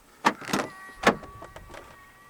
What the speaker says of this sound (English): Long press the ribbed area to fold the side mirrors in